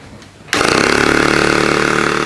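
A scratch-built model aeolipile steam engine, fed by a small compressor, spins up on compressed air with a sudden loud onset into a steady buzzing whir, close and continuous, with no talking.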